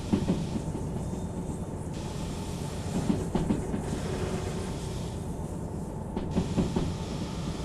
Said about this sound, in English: I pushed the speed limit a little bit too much, and you can hear the wheels really starting to grind